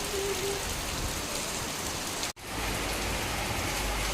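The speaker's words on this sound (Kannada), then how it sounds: "ತುಂಬ ಜೋರು ಮಳೆ ಬರ್ತಾ ಇದೆ" Dense, steady rain pours down, a loud even hiss of drops hitting surfaces, with one momentary dropout partway through.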